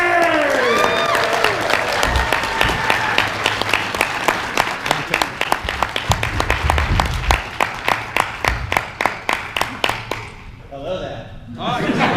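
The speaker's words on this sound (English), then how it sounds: "a big round of applause for Obi Wan Kenobi!" Audience applause and some cheering at a fan convention roast for Obi Wan Kenobi, a dense run of loud clapping with voices over the start, thinning toward the end.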